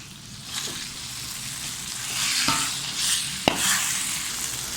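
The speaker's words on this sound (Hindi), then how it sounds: "2 कप दही, वो भी इसमें डालेंगे और इसको मिक्स कर लेंगे अच्छी तरह" Yogurt being stirred into shredded boiled meat for haleem in a hot pot, a steady sizzle with scraping spoon strokes and a couple of sharp knocks against the pan.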